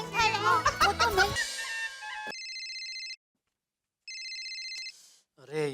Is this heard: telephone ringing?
yes